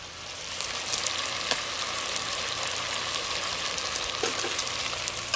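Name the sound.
onions frying in a pan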